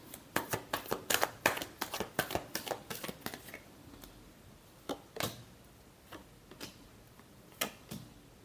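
Tarot cards shuffled by hand in a quick run of crisp riffling snaps, then a few slower, sparser flicks, close and clear with no talking.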